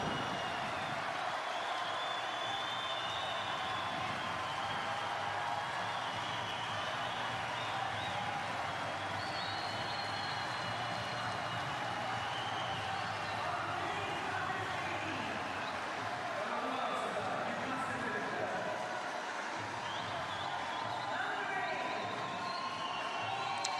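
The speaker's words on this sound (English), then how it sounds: "So lots of noise from the crowd." Arena crowd at a national gymnastics centre during the 2015 European Games: a steady, broad murmur of spectators with scattered applause and cheering rising and falling over nearly half a minute.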